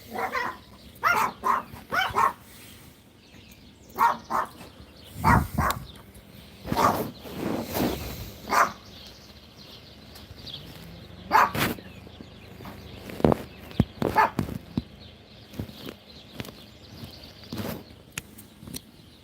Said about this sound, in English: There's the neighbor's dogs.